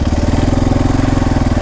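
A dirt bike engine runs loud and close with the clutch pulled in while the bike rolls forward, a steady rapid putter with even pulsing throughout.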